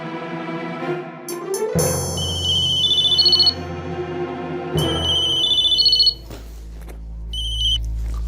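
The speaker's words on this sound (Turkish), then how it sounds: "Telefon!" An electronic phone ringtone chimes in repeated bursts of high beeping tones, separated by pauses filled with low, droning music.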